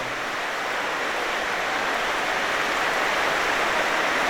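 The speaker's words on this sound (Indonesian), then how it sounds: "walaupun hujan yang cukup deras ini mudah-mudahan menjadi hujan berkah bagi kita semua" Heavy rain pours down outside during a farewell gathering, a dense, constant hiss that holds at an even level throughout, with no voices over it.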